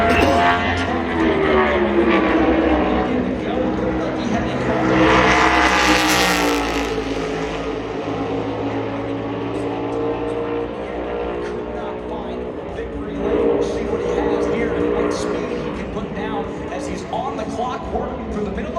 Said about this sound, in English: Carson Hocevar slides in to make an appearance out on the track for his qualifying lap